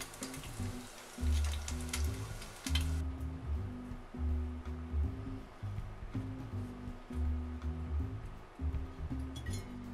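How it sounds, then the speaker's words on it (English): Beef cutlets fry in a pan, giving a soft steady sizzle under low rumbling handling noise, with a few clinks from the pan early on. No one speaks. "I just want to fry the side too. Just hold it like this to fry all the sides of the cutlet."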